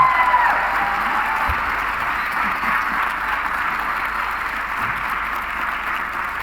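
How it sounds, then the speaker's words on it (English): Audience applause from a seated group at a talk on challenging conversations, a steady, dense wash of clapping that holds at an even level throughout, with a faint voice briefly audible near the start. "if our audience feel like it would be appropriate to clap"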